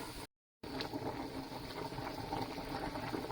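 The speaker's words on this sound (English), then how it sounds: "As you can see, it's on a fast boil." A pot of water at a fast rolling boil for cooking sliced carrots gives a steady, dense bubbling hiss that continues close by, broken only by a brief silent gap near the start.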